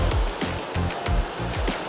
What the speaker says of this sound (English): This is a nice beach area.